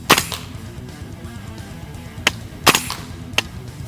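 A KWA gas blowback airsoft gun fires single shots, each a sharp, close snap with a quick mechanical clack, spaced irregularly about one to four times across a quiet background.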